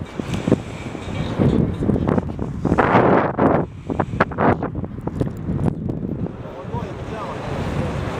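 Gusty wind outdoors on open water where sailboats are out, roaring into the microphone in strong buffeting surges with waves and surf underneath, loud and close, with a voice faintly audible.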